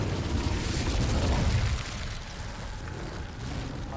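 A burst of fire roars from an Incendio spell in the Hogwarts Legacy game, a loud rumbling blast that swells then drops back to a softer crackling rush.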